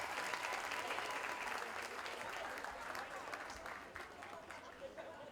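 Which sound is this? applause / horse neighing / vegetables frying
applause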